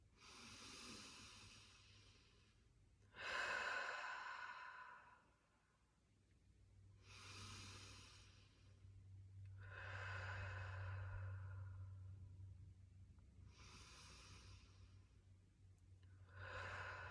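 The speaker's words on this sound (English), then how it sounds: "taking some very conscious and intentional slow deep breaths" Slow, deep breaths drawn in and let out during a relaxation exercise, roughly four long airy breaths over the span, close and soft, with a low hum in the background and no talking.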